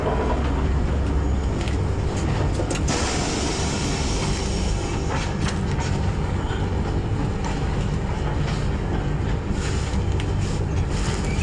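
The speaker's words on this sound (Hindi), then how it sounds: "शायद Howrah Chhatrapati Shivaji Maharaj terminus superfast mail arrive कर रही है बिलासपुर पे। अभी जस्ट क्रॉस किया है हमसे।" A Howrah–CSMT superfast mail train passing close by at Bilaspur, a loud continuous rumble and clatter of wheels and carriages sustained throughout, heard from a neighbouring train.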